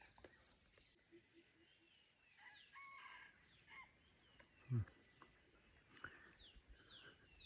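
Roosters and hens at a rural morning spot give faint, distant crows and clucks, spaced apart in the quiet, with one brief louder thump partway through.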